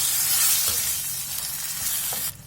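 Garlic and tomato paste sauté in a pan for a Tamil garlic kulambu, giving a loud, continuous close sizzle with a couple of soft stirring scrapes.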